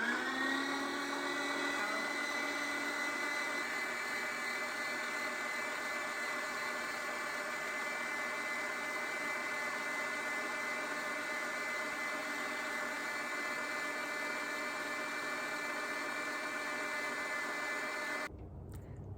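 An Aobosi countertop meat grinder runs while making sausage, giving a steady, loud electric motor whine with a strong harmonic hum that holds nearly unchanged and then cuts off abruptly near the end.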